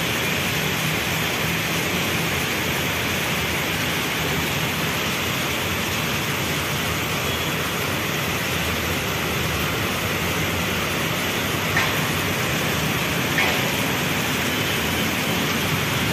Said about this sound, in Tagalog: Pag ganito kalakas yung ulan.